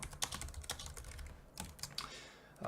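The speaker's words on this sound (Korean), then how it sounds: "지금 타이핑 하다 보니까 이게 좀 길죠" Typing on a computer keyboard during a C++ programming lesson on the char type, with irregular bursts of close, crisp key clicks and no talk.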